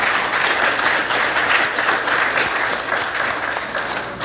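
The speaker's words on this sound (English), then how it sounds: "I want you to give yourself a round of applause" A conference audience breaks into a sustained round of applause, dense steady clapping from a large crowd filling the room at a loud, even level throughout.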